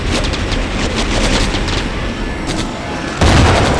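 Continuous minigun fire in Terminator Genisys, a dense unbroken roar of rapid shots under booming impacts, with a heavier thump near the end.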